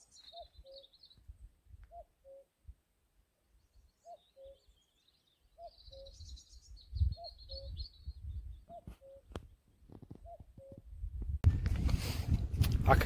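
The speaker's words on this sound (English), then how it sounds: "There's a cuckoo, first cuckoo I've heard this year." A cuckoo calls repeatedly in a steady two-note pattern from a distance, with small birds chirping; rustling and handling noise grow louder toward the end.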